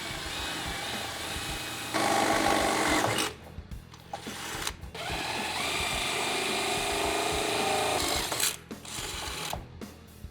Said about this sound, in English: I'll go ahead and drill out these holes